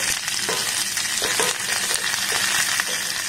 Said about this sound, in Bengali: পটলগুলোকে দেখুন আমি বেশ একটু লাল লাল করে ভেজে নিয়েছি